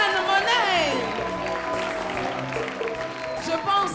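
Studio audience at a Friday-evening French television programme applauding the guest, a reverend: a sustained burst of clapping that carries on for several seconds, mixed with music.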